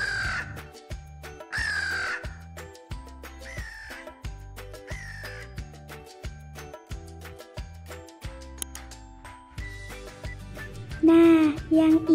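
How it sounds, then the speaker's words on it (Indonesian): Crow caws come in repeated loud bursts over a backing of rhythmic music, with several calls spaced through the passage. "Kalau yang ini burung gagak."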